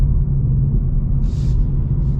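The V8 engine of a manual 2025 Ford Mustang GT rumbles deep and loud from the cabin during a rev-match downshift. The low drone holds steady, with a brief faint hiss partway through.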